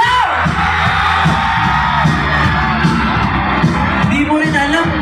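A concert crowd yells, whoops and shouts together in a loud, sustained roar that carries across the whole stretch without a break.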